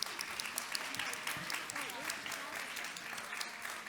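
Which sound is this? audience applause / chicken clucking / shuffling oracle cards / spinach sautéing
audience applause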